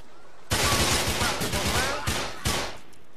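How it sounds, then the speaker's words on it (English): Heavy gunfire erupts suddenly in Grand Theft Auto IV: a loud, dense volley of shots followed by two more sharp bursts, with voices faintly mixed in. "Oh, you're next to the shooting!"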